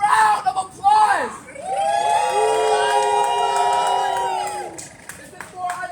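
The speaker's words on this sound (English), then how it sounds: "Give yourself a round of applause." A crowd at an outdoor rally mourns the overdose crisis in front of Governor Hochul's office. A brief shouted voice is followed by long, loud sustained cheers and whoops, with light clapping mixed in before it fades.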